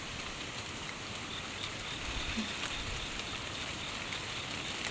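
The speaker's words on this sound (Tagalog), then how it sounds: "Napatak na po ang ulan." Rain falls near a hut beside a stream, a soft, even patter and hiss that holds steady throughout at a low, distant level.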